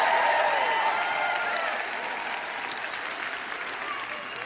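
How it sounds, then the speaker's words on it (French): A congregation at a French-language sermon claps steadily in a large hall, a dense wash of applause that starts strong and eases slightly while remaining continuous. "Je vous prie d'applaudir un peu plus fort,"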